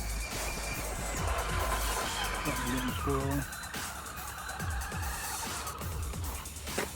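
A modified 2WD Traxxas/Tamiya Blitzer RC car, with a wobble, runs at full throttle: a loud, sustained buzzing motor whine with tire scrubbing, plus rising-pitch passes around the middle, continuous throughout.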